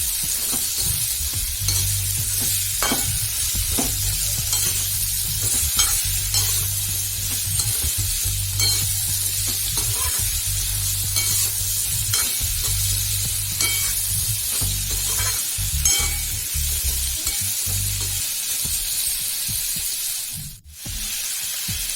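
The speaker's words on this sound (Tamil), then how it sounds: "நல்லா அப்படி கிளறி விட்டுக்கலாம்" Pumpkin fries in a pan with grated coconut and salt, sizzling steadily while a spoon stirs and scrapes it in a continuous rhythm, close and fairly loud, with a low hum underneath and one brief drop near the end.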